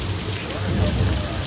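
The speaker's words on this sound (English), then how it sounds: "Now we shoot water up from our sprinkler system" Artificial rain from a studio sprinkler system at Universal Studios pours down as a dense, steady hiss of falling water, loud and continuous, with a low rumble underneath.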